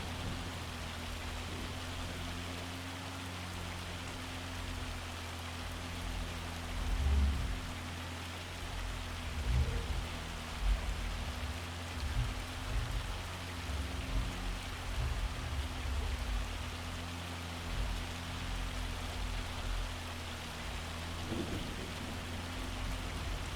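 Steady rain falling in Farming Simulator 25 forms a soft, even hiss of drops on surfaces, with a low machine hum underneath and a few faint thumps, moderately quiet and with no voices.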